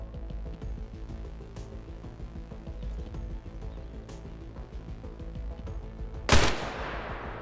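Gunfire in the video game Arma Reforger, a steady din of distant shooting with one loud, sharp close shot cracking out near the end.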